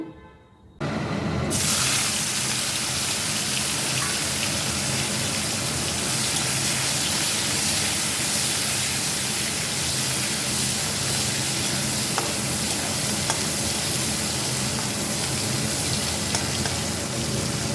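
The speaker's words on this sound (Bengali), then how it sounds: "চিংড়ি মাছে একটু নুন আর হলুদ মাখিয়ে নিলাম, এবারে ভেজে নেব।" Prawns rubbed with salt and turmeric sizzle steadily in hot oil after a brief quiet start, a loud, dense, unbroken frying hiss that runs throughout with no talking.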